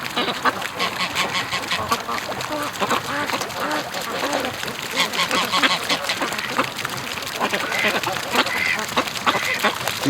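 A flock of free-range ducks quacking densely and continuously, close by and loud, with overlapping calls and occasional goose honks mixed in, while people talk underneath.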